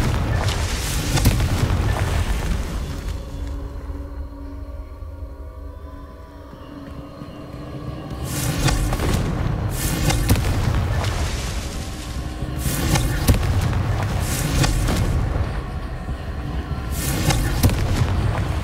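Confringo fire spell from the video game Hogwarts Legacy bursts as loud, booming explosions, several blasts in a row over a dense, continuous game soundscape, with no one talking.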